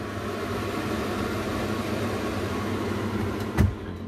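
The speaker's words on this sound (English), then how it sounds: "Range hood" A kitchen range hood fan runs with a steady, even whoosh close by, a constant airy drone that ends in a short click or thump.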